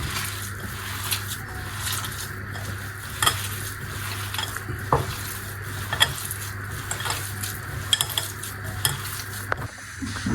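Manti filling is kneaded and mixed by hand, giving soft wet squishing and stirring sounds in a steady rhythm, with occasional clicks and knocks over a low background hum, and no talk.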